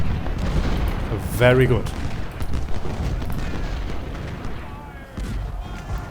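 Battle in the Civil War strategy game Ultimate General: Civil War, with continuous rumbling gunfire and artillery booms filling the background while someone speaks briefly over it.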